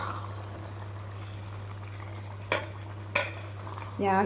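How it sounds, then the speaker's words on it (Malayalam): Fried chicken gets mixed into kadai masala in a pan, a faint soft stirring with two sharp clinks of a spoon against the pan and a brief scrape at the end over a low steady hum. "ഇതിലേക്ക് നമുക്ക് ആ ചിക്കന് വറുത്ത് വെച്ച ചിക്കനും കൂടി ഒന്ന് മിക്സ് ചെയ്തിട്ട് നന്നായിട്ടൊന്ന് മിക്സ് ചെയ്തെടുക്കാം"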